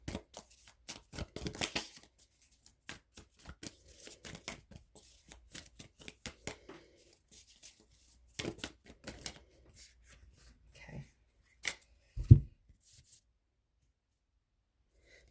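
A deck of oracle cards (the Mixed Emotions deck) is shuffled by hand, giving bursts of riffling and flicking card noise with short pauses in between and a soft thud near the end.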